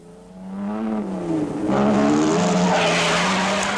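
A Triumph rally car spins and skids during the 1958 Coupe des Alpes, its tires scrubbing and squealing loudly while the engine note rises and falls, close and continuous with no talk.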